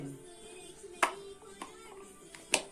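Hands clap during a children's shapes and colors lesson at home: a few sharp, separate claps, close and moderately loud, over a quiet room.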